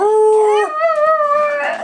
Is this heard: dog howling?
yes